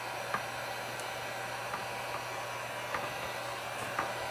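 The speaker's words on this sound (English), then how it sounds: "where's my heat gun?" A heat gun drying chalk paint on a shelf blows a steady, even hiss of air throughout, with a few faint clicks and knocks over it.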